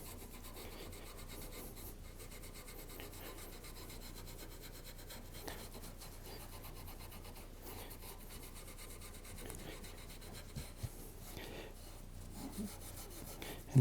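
Finish is rubbed by hand into a 3D printed object, a soft continuous scrubbing and rasping close up and quiet, with occasional light knocks and no talking.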